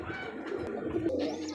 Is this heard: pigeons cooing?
yes